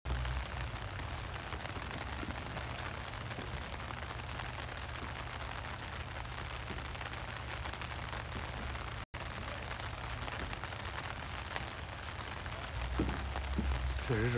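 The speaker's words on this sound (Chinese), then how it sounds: "朋友们也都在问说这咋又下雨了呢？" Rain falling over farmland as a steady, even wash of patter that continues without a break, with a low background hum and no voices.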